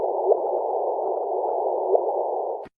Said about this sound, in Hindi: और ये आवाज जिन ब्लैक होल्स का है वो सूरज से लगभग 30 गुना ज्यादा बड़े थे